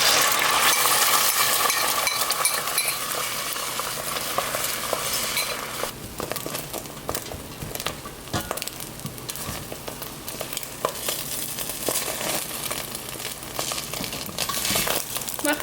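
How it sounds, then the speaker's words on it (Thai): Oil sizzling in a hot pan as an egg fries, with a utensil stirring and scraping, occasional clinks of metal, continuous and fairly close, no one speaking. "เมื่อหม้อร้อนแล้วนะคะเราก็จะใส่ไข่ลงไปค่ะ"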